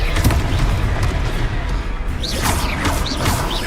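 A Confringo fire spell from the game Hogwarts Legacy bursts loudly with a crashing, booming blast and a whooshing wash of noise, alone without talk.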